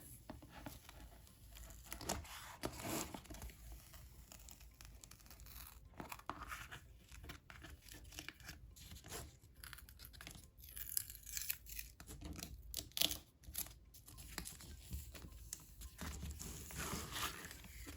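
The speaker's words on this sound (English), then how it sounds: "Since this is a brand new mat, sometimes it's a little bit harder to peel it off." Slow tearing and crinkling as vinyl stickers are peeled off a brand-new, sticky Cricut cutting mat, working from the corners, with quiet ripping bursts and rustles close up.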